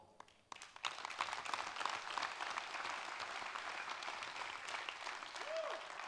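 An audience at a talk in Amsterdam breaks into applause, a dense wash of clapping that swells quickly and holds steady for several seconds at moderate loudness, with no voices over it.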